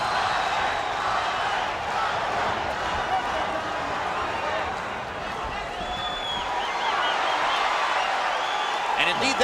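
A large crowd at a Jorge Paez versus Oscar De La Hoya boxing match, a continuous roar of many voices with a rhythmic chanted name rising through it, steady and enveloping from start to end.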